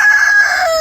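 Hens and a rooster on a small egg-laying farm: a loud, close rooster crow fills the moment, with some clucking in the background and no talk.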